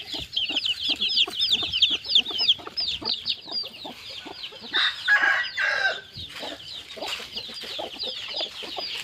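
Chickens cluck steadily in dense, overlapping calls while a rooster crows loudly through the middle, with small bursts of flapping and scuffling among the flock; no speech is heard.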